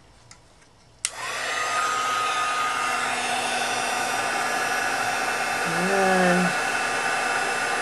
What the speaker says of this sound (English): Okay, now the heat tool.